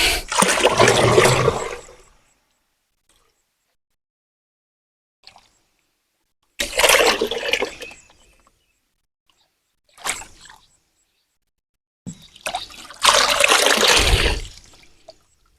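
Water splashes and swirls as DAP fertilizer solution is mixed for farm use, in several separate bursts of sloshing with silent gaps between.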